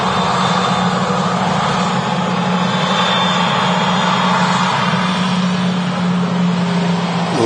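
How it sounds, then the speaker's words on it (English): A roughly eleven-year-old Airbus A320 airliner's engines at Manchester Airport, a loud, steady, broad jet roar holding for the whole stretch, close by and with no voices over it. "Victor Lima on the reg for this A320."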